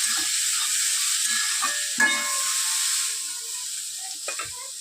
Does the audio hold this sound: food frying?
yes